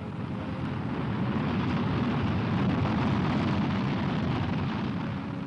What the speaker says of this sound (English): This is the Army's Corporal, the nation's first operational surface-to-surface guided missile.